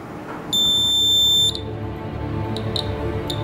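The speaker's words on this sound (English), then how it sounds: "Once I tilt, the buzzer turns on and wakes the user." A shrill electronic buzzer set off by a tilt sensor module sounds once for about a second, loud and close, followed by a few brief faint clicks against quiet room noise.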